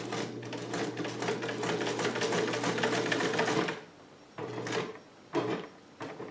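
Vintage blue Sovereign sewing machine running at speed, a loud steady mechanical whirring and rapid clatter for several seconds, then stopping and giving two short bursts, close up.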